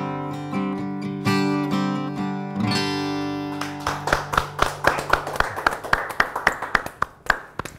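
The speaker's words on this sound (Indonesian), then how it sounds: "Tepuk tangan sekali lagi" Audience at a poetry café gathering breaks into clapping after musical tones fade, with sharp, distinct hand claps growing into a rhythmic, fairly close round that continues to the end.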